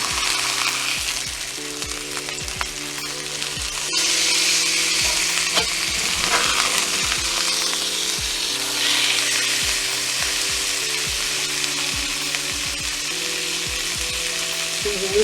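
Walnut-crusted chicken breast stuffed with cheese and green chile, freshly flipped in a hot pan, sizzles loudly and steadily, with repeated utensil scrapes and taps running through the constant frying hiss, close up and without voices.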